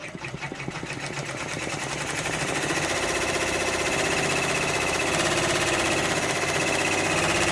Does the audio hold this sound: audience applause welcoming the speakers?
no